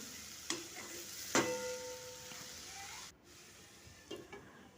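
Mixed vegetables cooking in a pan for semolina upma, with water added to simmer them: a quiet, even hiss of frying and bubbling, broken by a couple of faint clinks and brief stirring.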